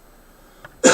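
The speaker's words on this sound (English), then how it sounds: "Excuse me, I'm about to cough." One sharp, loud cough bursts out near the end after a quiet stretch.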